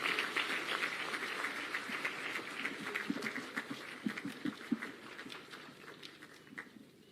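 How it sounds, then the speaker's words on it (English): An audience at the National Prayer Breakfast applauds President William Ruto with faint, sustained crowd clapping heard from a distance, thinning out toward the end. "Please, a round of applause for His Excellency the President."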